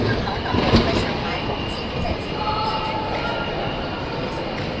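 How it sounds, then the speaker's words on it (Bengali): A large train at a big airport in China rolls past with a steady, loud, broadband rumble and rattle that holds at a constant level, with a brief louder clatter near the start. "বিশাল বড় ট্রেন।"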